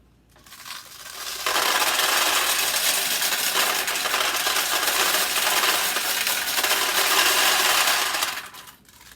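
Pachinko balls pour into a recycler machine in a loud, dense metallic rattle and clatter, close by and continuous for several seconds before tapering off, with no talking over it.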